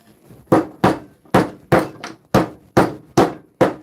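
Klein hammer pounding sideways on a wooden stud, nine loud, close blows in a steady driving rhythm with brief gaps between each strike and no talking.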